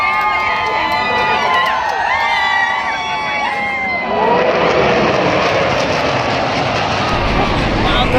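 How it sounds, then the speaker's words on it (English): Military jets roar over a cheering crowd at Singapore's National Day celebration, a loud continuous engine rush that swells and shifts midway while the crowd's noise and voices carry on beneath. "Wow, those jets were so loud."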